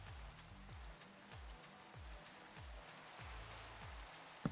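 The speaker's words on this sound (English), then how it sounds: "There's nothing quite so dismal looking as rain at night on a mushroom island biome." Steady rain falls at night in a Minecraft mushroom island biome, a soft, even patter with no voices over it.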